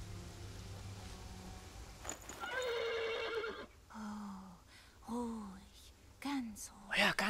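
A horse in the video game Ken Follett's The Pillars of the Earth whinnies loudly in a long drawn-out call, followed by several shorter snorting neighs, with quiet voices murmuring in between.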